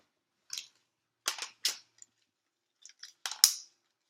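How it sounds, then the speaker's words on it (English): Several crisp snips of regular scissors cutting through toy lightsaber plastic packaging, in short bursts with pauses between, close and clear in a quiet room. "really easy to cut with just regular scissors"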